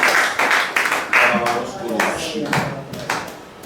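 A church congregation clapping in rhythmic bursts, loud and close, with voices mixed in under the applause.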